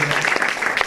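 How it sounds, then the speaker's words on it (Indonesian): Church congregation clapping for Jesus during a sermon, a dense, steady wash of hand claps across the whole moment, close and fairly loud, with faint voices mixed in. "Sekali lagi kasih tepuk tangan buat Tuhan Yesus."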